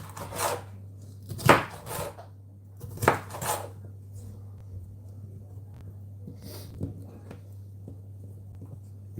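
A knife chops food into little squares on a board while meatballs are prepared, with several sharp, fairly close chopping knocks in a short, irregular run over a steady low hum.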